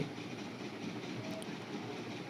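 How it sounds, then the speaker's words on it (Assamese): The Dibrugarh Town special train rolls in at a station platform, a faint steady rumble of rail cars with a light hiss and no voices. "ডিব্ৰুগড় টাউন স্পেচিয়েল ট্ৰেইনখন আহি পাইছেহি"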